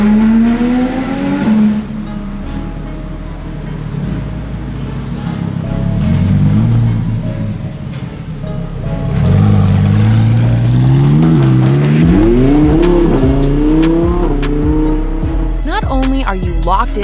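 A race car engine revs hard and climbs through the gears, the pitch rising and dropping repeatedly, loud and close with brief tire noise.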